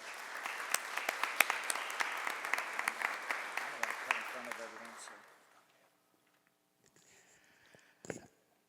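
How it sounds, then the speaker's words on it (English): An audience at a school board meeting applauds two football players: steady, moderately loud clapping from a room of people lasts about five seconds, then fades out, followed by near silence and a brief thump. "So I just want to give a round of applause to those 2 guys."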